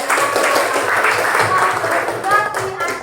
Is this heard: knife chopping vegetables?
no